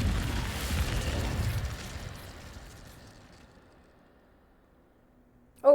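A fire spell cast in the Hogwarts Legacy video game bursts with a low rumbling whoosh that fades away over a few seconds, followed by a brief sharp chime at the end.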